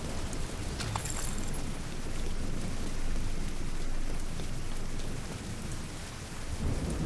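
Heavy rain pours down during a thunderstorm in The Division 2, with rolling thunder swelling in the low end and a continuous loud wash of rainfall throughout.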